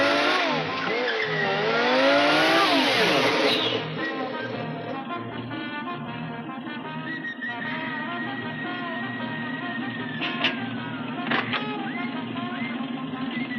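A car with a faulty differential is started and driven from the rear in a comedy film scene, its engine revving loudly and rising in pitch before settling into a steady drone with a couple of brief knocks near the end, amid music and background sounds.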